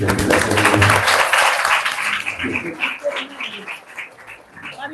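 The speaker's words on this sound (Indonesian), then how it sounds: "Tepuk tangan dulu nih." An audience at a school learning-community gathering applauds, a loud burst of clapping that tapers off over several seconds as scattered voices come through.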